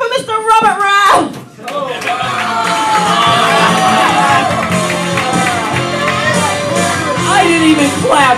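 A comedy club crowd at a stand-up show at the Long Branch Lounge cheers, whoops and applauds for the next comedian, a loud sustained wave of clapping and shouting that follows a brief burst of music.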